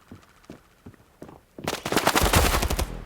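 FAMAS rifle fire in a shooting video game: a few sparse single shots, then a loud rapid automatic burst crackling for over a second.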